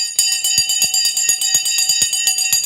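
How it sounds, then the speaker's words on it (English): The stock market opening bell rings as a rapid electric clang, steady and loud, its strikes repeating about every quarter second for the whole stretch, with no talking over it. "There's the bell."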